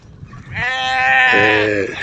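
Sheep bleating in a village flock, one loud, close, drawn-out wavering bleat that dips lower in pitch toward its end.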